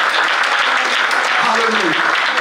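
Dense, steady audience applause filling a church, loud and continuous throughout, with a voice speaking faintly underneath.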